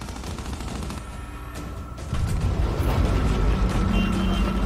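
Gunfire in the video game Gears 5 rattles in dense, continuous bursts, growing louder and fuller after a brief lull, with heavy booming weapon fire dominating throughout.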